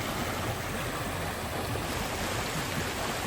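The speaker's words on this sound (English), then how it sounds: "those little mini waterfalls, they look beautiful" Small outdoor waterfalls rush in a constant, dense roar of flowing water, loud and unbroken throughout with no voices.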